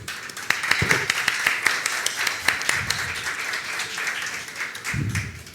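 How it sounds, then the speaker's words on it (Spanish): An audience at a live storytelling show claps loudly and continuously, many hands blending into dense applause, with a few scattered voices underneath. "iniciemos con un fortísimo aplauso"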